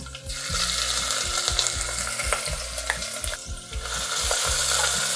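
Ginger, garlic and chilli paste sizzles in a pan while a spoon stirs it, giving a steady close frying hiss with rhythmic scraping and clanking strokes against the metal throughout, with no talking.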